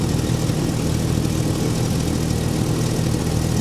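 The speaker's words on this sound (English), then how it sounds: "She's actually running really well. You can hear a slight exhaust leak." A supercharged C4 Corvette engine idles at a steady, rough rumble throughout, with a constant breathy hiss from a slight exhaust leak layered over the low drone.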